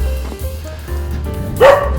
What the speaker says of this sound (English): And there's a dog barking.